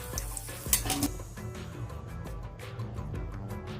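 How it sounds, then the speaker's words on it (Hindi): Dried red chillies and garlic frying in mustard oil in a frying pan, a faint steady sizzle with a few clinks of a utensil against the pan and some stirring. "सूखी मिर्च को हम थोड़ा सा फ्राई कर लेंगे"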